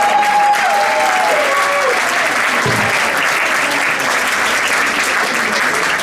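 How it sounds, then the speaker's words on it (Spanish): Steady, dense applause from an audience after a young choir's performance, loud and continuous, with a faint voice or two early on. "ya aplaudieron"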